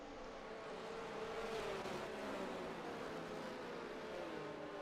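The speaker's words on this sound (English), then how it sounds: "The safety car comes flying down the back straight." A safety car in a Formula 1 racing game at the China circuit roars down the back straight, its engine note swelling and shifting pitch as it speeds past at steady, moderate loudness.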